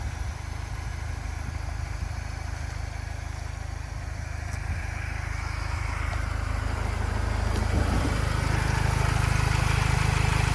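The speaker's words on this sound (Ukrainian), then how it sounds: "Чуєте, як мотор працює, рівнесенько робить" A steady, low diesel engine idle from a 2011 Renault Trafic 2.0 van, rumbling evenly and continuously, close by, with no voices over it.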